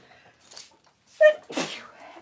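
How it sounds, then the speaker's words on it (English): One close sneeze: a short sharp intake and squeak, then a breathy burst, with faint rustling before it in a quiet room. "and sneeze."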